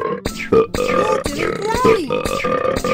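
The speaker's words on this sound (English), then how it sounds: "That's a box of burps!" Cartoon burps from a Ben & Holly game pop out of a box one after another, loud and close, with grunty belching tones and a jaunty backing tune behind them.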